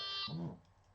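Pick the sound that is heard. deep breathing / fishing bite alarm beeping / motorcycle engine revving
fishing bite alarm beeping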